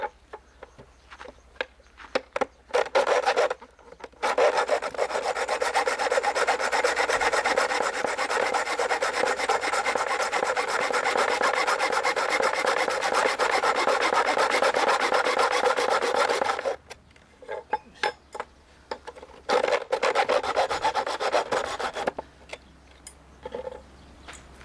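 An aluminium frame is hand-sawn in a long, loud, continuous rasping run of about twelve seconds, framed by shorter scraping strokes before and after, close to the microphone and without speech.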